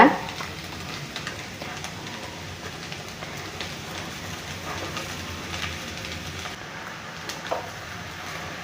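Masala egg rice with pepper is stirred and tossed in a pan, producing a soft, continuous sizzling and scraping hiss under occasional talking.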